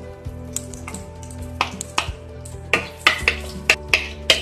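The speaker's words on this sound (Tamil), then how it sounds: "பூண்டு லேசா வதக்கிக்கோங்க." Garlic frying lightly in oil in a pan, with a soft sizzle under repeated sharp clicks and scrapes of a spoon stirring against the pan, close and without talk.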